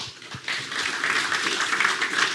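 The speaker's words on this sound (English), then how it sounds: "give them another round of applause" Audience applause for a panel of presenters taking their seats at a maritime AI and automation event: a steady, moderately loud wash of many hands clapping, continuous for a couple of seconds after a couple of faint early taps.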